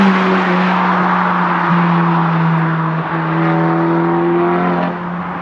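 Deep, steady engine drone from a bagged Mk2 Seat Leon Cupra R, holding a fairly constant pitch with slight rises and dips, loud and close, no talk.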